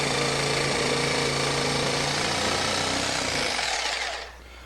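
A power tool cuts loudly and continuously through sheetrock near a glass block window opening, a harsh rattling buzz held close for about four seconds before spinning down and stopping.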